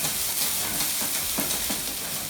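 Chopped onions sautéing in a pan for a penne gratin, a steady broadband sizzle with soft crackle and occasional stirring bumps, continuous and close throughout.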